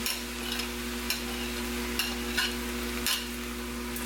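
A spoon stirs a pot of turkey chili with beans and frozen corn, a steady sizzling bed broken by a few soft scraping strokes, close and alone without talk.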